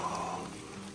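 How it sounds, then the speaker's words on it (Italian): Rain falls steadily on leaves in a forest, a quiet, even patter with no voices heard. "sentite come piove"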